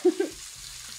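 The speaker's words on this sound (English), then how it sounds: "Yeah, that's a nice sizzle." Meat for chicken tacos sizzling in a pan, opening with two short bumps followed by a soft, steady frying hiss.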